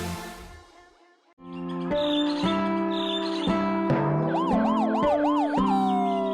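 After a brief quiet moment, a loud ambulance siren wails steadily with rising and falling tones, ending in quick repeated whooping sweeps.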